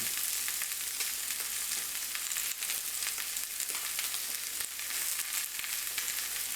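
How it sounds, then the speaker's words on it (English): Pork chops searing in a hot pan as water meets the oil, giving a steady, dense sizzle and crackle that holds at an even level throughout, with no voices. "You can hear that water is starting to meet the oil."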